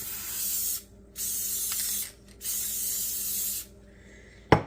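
An aerosol sealant can hisses in three long bursts over a diamond painting, separated by short pauses, loud and close, ending with a sharp click.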